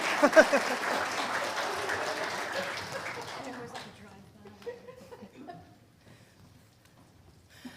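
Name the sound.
applause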